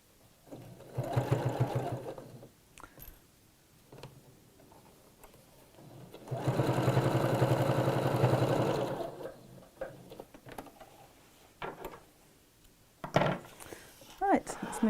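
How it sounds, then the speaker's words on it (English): A domestic sewing machine stitches around a fabric circle in two bursts of steady whirring, each a few seconds long, separated by pauses and quiet handling sounds, with someone talking in between. "So let's just sew around here."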